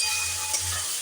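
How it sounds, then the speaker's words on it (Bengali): Spices sizzle softly in a pan with a splash of water over a low flame, a steady close hiss with a faint low hum beneath. "এটা সুন্দর করে ভাজা করে দিলাম।"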